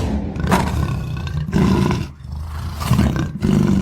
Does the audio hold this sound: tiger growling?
yes